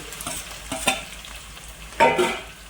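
Curry leaves and onion stir-fry in oil with green chilies in a pan, soft sizzling punctuated by a few sharp spatula scrapes and crackling bursts, close and unaccompanied by voices.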